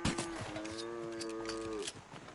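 A cow in the Red Dead Redemption 2 video game lets out a single long, loud moo lasting nearly two seconds, strong and steady with a rich harmonic tone, followed by a sudden cutoff into quieter game ambience.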